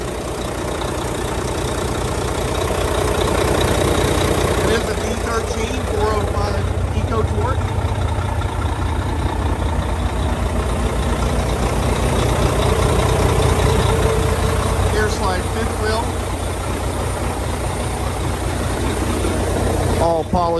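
A 2013 Volvo VNL64T300 truck's diesel engine idles in a steady, even low rumble throughout, with someone talking over it.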